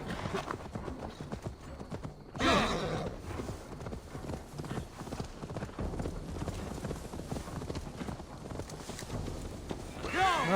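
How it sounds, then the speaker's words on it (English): Horse in Assassin's Creed Valhalla: continuous clip-clop of hooves at a brisk pace with a whinny breaking out, faint speech mixed in with the game audio. "Now to deliver Magni his horse."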